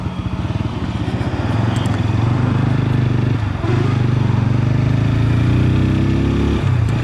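TVS Apache RTR 160 4V motorcycle engine running close by, a steady mid-pitched idle that rises into a smooth, climbing rev toward the end, with no talking.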